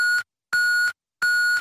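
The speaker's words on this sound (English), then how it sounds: "Leave a message after the beep." Three identical electronic answering machine beeps, each a steady tone lasting about a third of a second, evenly spaced with short silences between.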